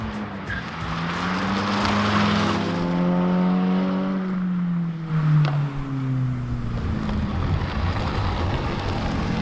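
Race cars roar around a short 3/10-mile oval, engines revving and sweeping in pitch as they pass, with tires squealing and skidding through the turns, loud and continuous.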